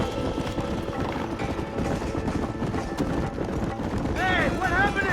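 Horses gallop in the Red Dead Redemption video game, a dense, steady patter of hoofbeats blended into a thick wash of game ambience and music, with a brief whinny-like rising tone near the end.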